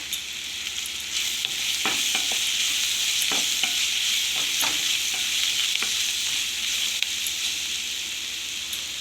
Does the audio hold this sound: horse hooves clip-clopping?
no